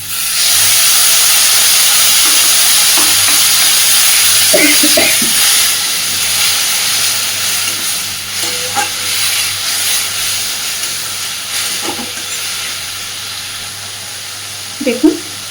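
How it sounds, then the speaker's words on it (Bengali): Masala frying in a pan with small splashes of water added, giving a steady broad hiss and sizzle throughout, with a few brief louder spits and crackles near the end. "অল্প অল্প করে একটু একটু করে জল দিয়ে দিয়ে মশলাটাকে কষাবো"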